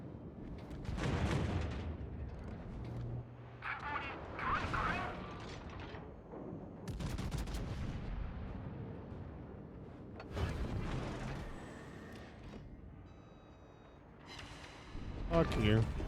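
Warship guns firing in World of Warships, with repeated booming salvos and heavy blasts spread across the stretch, some near and loud, others fainter, with a voice talking in between.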